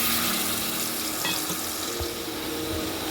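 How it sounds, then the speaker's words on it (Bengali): Water splashes into coriander and cumin powder frying in a pan, making a loud, steady hissing sizzle that carries through the whole moment without any talk. "মশলাটা পুড়ে যাবে, তার জন্য আমি একটু জল দিয়ে দিলাম।"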